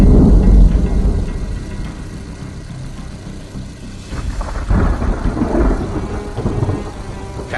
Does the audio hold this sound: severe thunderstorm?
yes